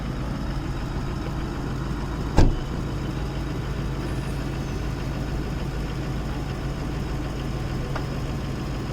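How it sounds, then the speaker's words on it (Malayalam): A Toyota Land Cruiser V8 engine runs at a steady idle close by, with one brief sharp click or knock partway through and no talk. "ഇപ്പോൾ വണ്ടി സ്റ്റാർട്ടിംഗ് ആണ്, ഞാൻ കാണിച്ചു തരാം"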